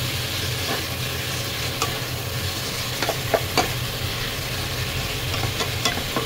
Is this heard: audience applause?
no